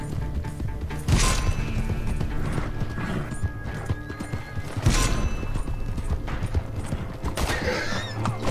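Horse hooves clip-clop at a steady gallop through a race in the video game Red Dead Online, with occasional neighs and bursts of crashing and gunfire over a constant busy game backdrop.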